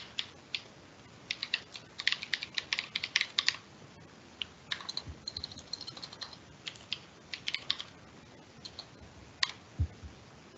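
Typing on a computer keyboard while entering a shared secret for an NPS RADIUS server: bursts of quick, close key clicks with short pauses between runs, alone with no talking.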